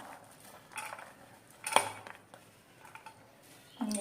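Pieces of banana, pomegranate and apple drop into a chilled bowl, making soft scattered clinks and patters, one sharper knock standing out, close and fairly quiet.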